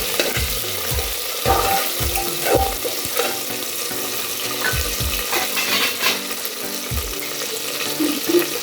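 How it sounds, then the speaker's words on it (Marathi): Chopped coriander and spices frying in a pan for Punjabi rajma, giving a steady broadband sizzle with repeated scrapes and stirring knocks throughout, fairly close and with no talking. "चिरलेली बारीक कोथिंबीर. त्यांना छान तिखट फ्राय करून घ्यायचं."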